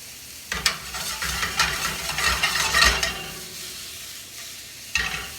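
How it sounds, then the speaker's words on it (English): Mushrooms, leeks, thyme and garlic stirred in a hot sauté pan for chicken marsala, a steady sizzle with several sharp spatula scrapes and knocks against the pan, close and alone. "Now I'm going to go ahead and add in my thyme and my garlic. I'm going to give that a quick stir."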